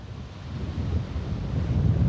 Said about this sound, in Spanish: Está bastante ventoso